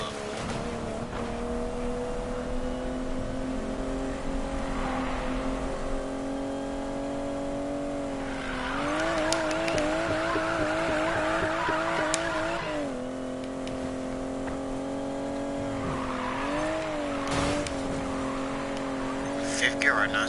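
Aston Martin DB11 in Need for Speed Payback: a steady, loud engine drone holds for a long stretch, rising and dipping as the car revs and shifts gears, with a voice speaking over it.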